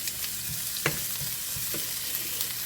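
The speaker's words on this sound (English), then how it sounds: "We'll saute our onions first" Onions sautéing in olive oil in a pan for Filipino-style picadillo: a soft, steady sizzle with a few scraping stirs of a utensil, close and fairly quiet.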